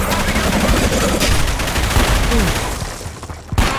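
Loud, rapid bursts of gunfire fill the Dark Sector video game, with rattling shots and heavy impacts near and continuous, plus a voice speaking over it.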